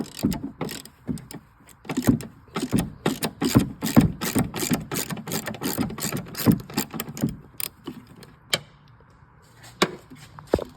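Ratchet turned on a long 14-to-18-inch extension with a 13mm socket, loosening the rear shock nuts on a 2013-19 Ford Escape; rapid bursts of close, rhythmic clicking repeat for several seconds, then slow to a few separate clicks.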